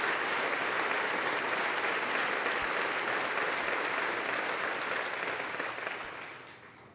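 Members of Congress stand and clap in a large chamber, a dense sustained wash of applause that holds steady for several seconds before tapering off near the end.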